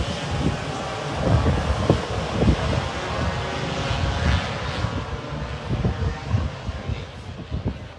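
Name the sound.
stock scooters setting off on the sighting lap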